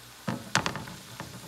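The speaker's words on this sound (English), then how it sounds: "And if you listen closely, you can hear it sizzling." Ground beef hitting a hot frying pan with softened vegetables, giving a few short sizzling bursts and soft stirring knocks, close and fairly quiet with no talk.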